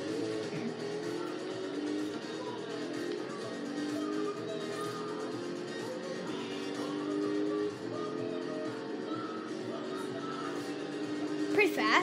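An orange Bugatti's engine drones steadily from inside the cabin as it accelerates toward top speed, a continuous rising hum with road and wind noise throughout, loudening slightly at the end.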